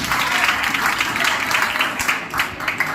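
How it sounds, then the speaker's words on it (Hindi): Audience applause at an academy foundation day celebration, a dense steady wash of clapping from a large crowd lasting the full stretch without a break. "एक बार जोरदार तालियां बजाइए इनके लिए"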